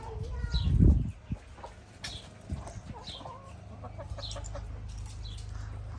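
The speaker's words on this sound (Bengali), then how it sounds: "এই এখানে বিভিন্ন ধরনের মুরগি আছে টাকি মুরগি দেশি মুরগি" Chickens, including turkeys and local hens, on a farm in Italy, close clucking with a burst of wing flapping near the start, then scattered calls over a low background hum.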